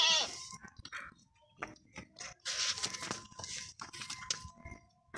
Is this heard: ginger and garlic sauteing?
no